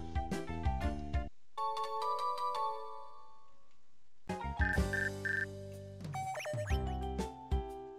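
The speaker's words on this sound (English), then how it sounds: "Can you pick the ringtone in this game or no?" A phone ringtone from a Pokemon video game plays as a bright, tinkling electronic melody of quick repeated chiming notes, pausing midway and then resuming with fuller game music layered under it.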